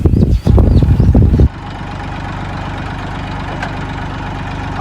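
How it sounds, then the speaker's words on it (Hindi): A Mahindra tractor engine idles close by in a steady, low, rumbling chug with a fast even pulse, following a short burst of louder knocking and handling noise at the start. "हरा महेंद्र चलाएगा अब ट्रैक्टर मेरे बाद में"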